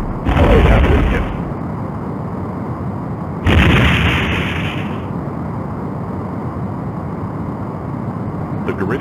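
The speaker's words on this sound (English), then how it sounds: "The Garidian ship has been destroyed." A Garidian starship blowing up in the 1995 Star Trek: A Final Unity space game, two heavy booming blasts a few seconds apart, each followed by a long rumbling decay under a spoken voice.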